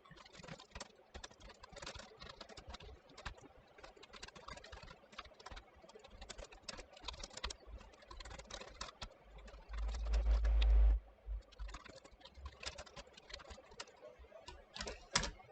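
Code is typed on a computer keyboard in a dense, fast run of close key clicks that carries on throughout, with a short low thump partway through.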